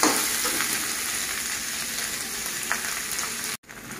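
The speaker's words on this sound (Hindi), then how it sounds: "प्याज मेरा फ्राई हो चुका है" Onions frying in a pan with salt and turmeric for a chicken curry give a steady, close crackling sizzle for about three and a half seconds, then a brief drop before the sizzle resumes.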